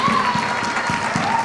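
Wedding guests applauding a newly married couple: a dense, steady wash of many hands clapping, fairly loud and close, with a faint tonal hum running underneath.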